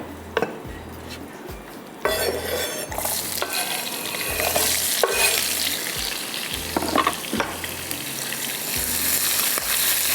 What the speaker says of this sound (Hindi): हल्का सा आपने इसको स्लो फ्राई करना है